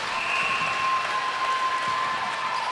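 Applause from a netball crowd at an international Singapore vs Malaysia match after a converted goal, a steady, fairly distant wash of clapping with a faint whistle-like tone running underneath.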